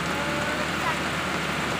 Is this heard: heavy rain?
yes